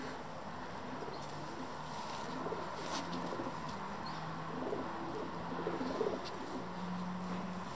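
Doves nesting at Raglan Castle coo repeatedly in soft, low, rhythmic phrases, fairly distant beneath a steady outdoor hiss.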